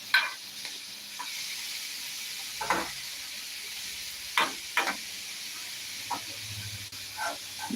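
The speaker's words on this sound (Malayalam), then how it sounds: "നന്നായിട്ടൊന്ന് ഇളക്കി കൊടുക്കാം" Hiss and sizzle from a hot pan over medium heat with scattered scraping strokes as a salted cabbage stir-fry is stirred, a few louder knocks of the spatula, no voices.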